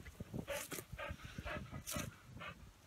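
Two dogs mock fighting produce a close series of growls, yips and whimpering bow-wows in short bursts, fairly faint and without speech.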